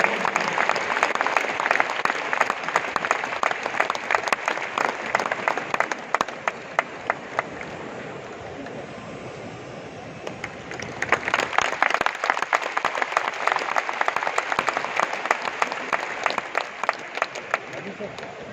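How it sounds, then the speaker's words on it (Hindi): A large crowd at a Yoga Day program in Delhi's Indira Gandhi Stadium applauds the arriving Lok Sabha Speaker. The clapping is dense and sustained, eases off midway, then swells again, with voices faintly underneath. "अब भरपूर तालियों से आपका अभिनंदन करते हैं।"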